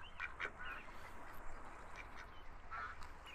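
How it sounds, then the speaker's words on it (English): Ducks in the VRChat game quack in short repeated bursts at moderate distance over a soft background hum, with no voices. "Can I pet the ducks?"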